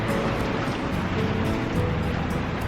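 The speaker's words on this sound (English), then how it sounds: "okay, it's raining." Steady rain falling with water running off a deck under the awnings during a thunderstorm, a dense, even hiss of drops and runoff that continues throughout, close and fairly loud.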